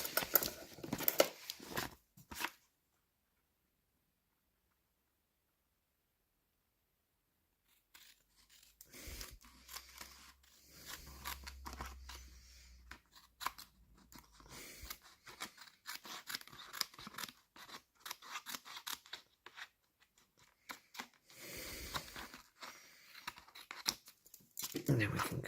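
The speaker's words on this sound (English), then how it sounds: "You can cut out the rest of the paper now." Scissors cut out paper at a desk while building a scrap-built model tunnel portal, a series of close, crisp snips and paper crinkles in irregular bursts, with a long silent pause early on and quiet speech now and then.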